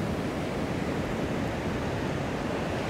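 Ocean waves wash onto Iceland's Diamond Beach, where icebergs sit on black sand, as a steady, dense roar of surf that fills the whole stretch without distinct breaks.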